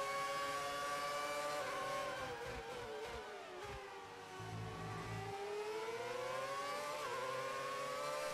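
A 2003 Formula 2 race car at a classic race meeting, its engine screaming at high revs as it passes, the pitch climbing and dipping through gear changes with a steady loud whine throughout.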